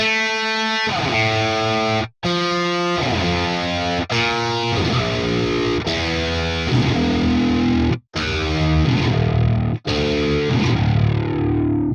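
Virtual 9-string distorted electric guitar (Shreddage 3 Argent), low-tuned, playing legato lines, notes gliding into one another with smooth portamento slides, loud and sustained with only brief breaks.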